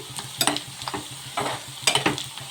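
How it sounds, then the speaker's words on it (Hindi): Onions frying and turning brown in a pan with chilli powder and salt, a soft sizzle broken by quick bursts of spatula stirring, close and alone. "तो हमारी प्याज जो है ब्राउन होना चालू हो रही है"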